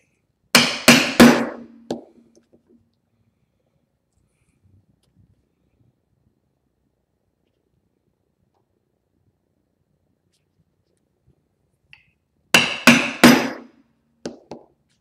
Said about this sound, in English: I'm going to take my 2-prong pricking iron, and I'm just going to kind of walk it around that and just barely make some indentations